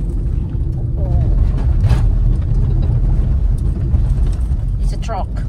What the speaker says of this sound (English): It's another truck.